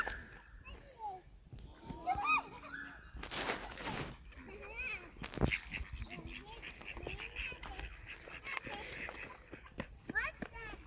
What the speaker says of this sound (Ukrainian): Оці рябенькі це качечки, а оці такі кольорові із зеленими головами це селезні